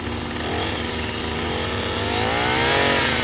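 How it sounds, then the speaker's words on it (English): Drill boring a hole through the centre of a utility pole during pole setting, a loud, continuous motorized whine that builds slightly in strength. "Try to drill through the center."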